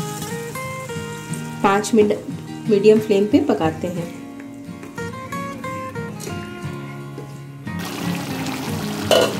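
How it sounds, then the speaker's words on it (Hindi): Water poured into chicken curry frying in a pan over a medium flame. The splash and sizzle swell in short surges under someone speaking Hindi. "अब हम इसमें करीब 2 कप के इतना पानी डालकर"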